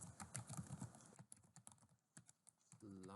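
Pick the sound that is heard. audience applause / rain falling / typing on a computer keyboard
typing on a computer keyboard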